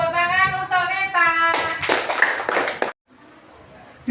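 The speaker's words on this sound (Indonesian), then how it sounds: "Tepuk tangan untuk Neta." A class of schoolchildren claps for a classmate in a primary-school lesson, a burst of close, busy clapping for about a second and a half after a voice, then falling quiet.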